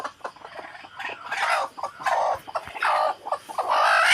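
Desi hens brooding on eggs in a home poultry shed cluck repeatedly in close, irregular bursts, with soft murmuring between the louder calls.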